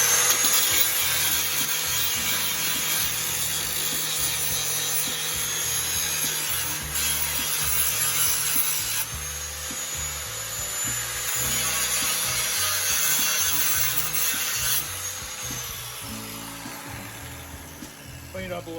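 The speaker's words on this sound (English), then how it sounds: "Got a little bit of rust on it and stuff. I'm gonna take off as much as I can." Rust being scrubbed off the blade of an old knife, a steady rasping rub that runs continuously throughout with faint background noise and no talk.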